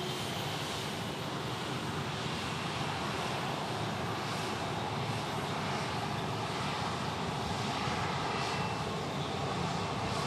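An airliner departing Dallas Love Field gives a steady, broad engine roar that holds loud and even for the whole stretch, with no voices over it.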